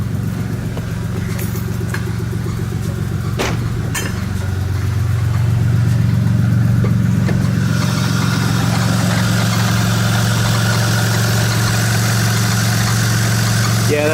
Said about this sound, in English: I hear a bit of belt slip, and that's because I think I accidentally spilled some coolant on the belt